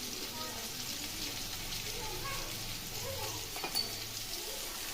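Spices fry in a pan with a low, continuous hiss and crackle throughout, close but quiet, with a brief light clink near the end.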